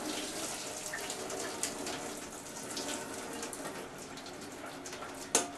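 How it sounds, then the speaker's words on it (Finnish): Water is poured out of a container in a steady, moderately loud stream that runs throughout, with a brief clatter near the end and no talking. "Noin ja tästä vesi pois."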